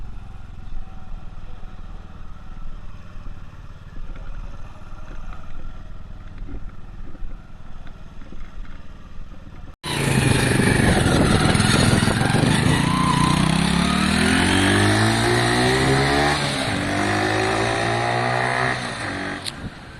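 A Lexmoto Valiant motorcycle on a ride: a low, muffled rumble for about ten seconds, then a loud, close engine revving with pitch rising and falling between gear changes.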